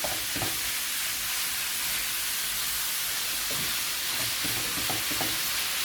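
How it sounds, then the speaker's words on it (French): Peppers, onions and minced meat sizzle steadily in a pan as a utensil stirs and scrapes through them now and then, with a constant close frying hiss and no speech. "On va continuer jusqu'à que ça se mélange bien, les poivrons, oignons, la viande hachée."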